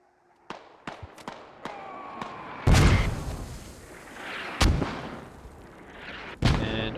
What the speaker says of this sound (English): mortar's going down onto the radio and the hab